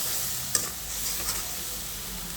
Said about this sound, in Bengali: এখন আমি এটা সুন্দর করে কষিয়ে নেব।